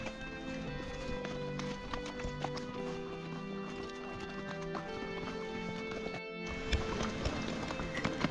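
Horses carrying riders up a trail in Baisaran Valley near Pahalgam, Kashmir, with steady clip-clop of hooves close by under a dense wash of outdoor noise and faint background voices.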